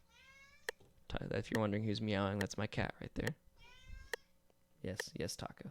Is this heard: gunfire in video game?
no